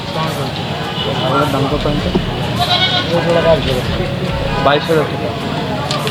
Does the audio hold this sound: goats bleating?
yes